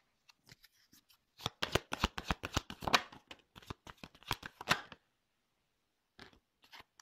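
Tarot cards riffled and shuffled by hand in a quick run of crisp, close flicks and slaps, pausing briefly near the end before a few final taps; no talking.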